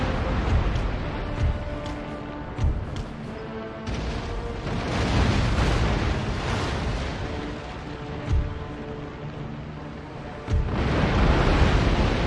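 Mortar explosions from a bomb ketch in a naval battle in Empire: Total War, a rumbling layered barrage with repeated heavy booms and a sustained roar of battle noise.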